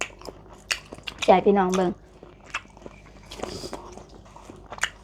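Crunchy grilled shrimp heads being bitten and chewed close up, with a burst of crisp crunching in the middle while someone talks over and around the eating.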